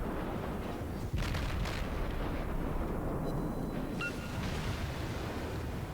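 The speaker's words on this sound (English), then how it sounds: "We start unloading on him with our main battery guns." Warship main battery guns firing in the naval battle game World of Warships: a dense, continuous roar of booming artillery blasts merging with rumbling sea noise, loud throughout with no talking.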